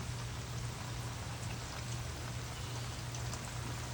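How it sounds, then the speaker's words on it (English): Steady rain falls on a summer morning in Madison, Alabama, a continuous dense patter of drops spread evenly over the few seconds, close and moderately loud, with a low hum underneath and no talking. "A grand morning with rain coming down."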